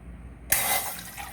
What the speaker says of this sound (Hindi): अच्छा, हम इसमें डालेंगे 2 कप पानी के, ये वाली कप